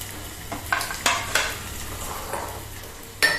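Small slices of garlic, eight to ten pieces, roast in a pan over a medium flame, giving a soft steady sizzle punctuated by several brief stirring scrapes of a utensil against the pan.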